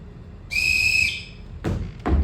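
In a stage performance of The Sound of Music, one sharp, shrill whistle blast sounds, followed by two dull thuds like footsteps stepping forward.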